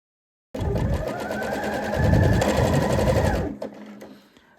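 A sewing machine runs steadily for about three seconds while stitching elastic onto high-waisted shaping panties. The whirring motor and rapid needle chatter are loud and close, rise slightly midway, then stop, followed by a faint clatter.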